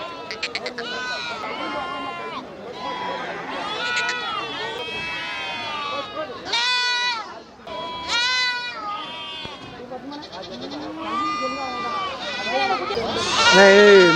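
Goats bleat repeatedly, near and loud, at the Melapalayam goat market, with a busy crowd of people talking and calling out around them.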